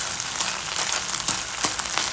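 String beans and garlic frying in a home kitchen pan give a steady, close sizzle with bright crackling pops scattered throughout and no voices.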